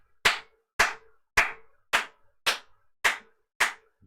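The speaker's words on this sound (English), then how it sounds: "all stand up in unison and start clapping." Seven sharp, evenly spaced claps ring out one by one with a short decaying tail after each, close and loud against silence, in a slow deliberate rhythm.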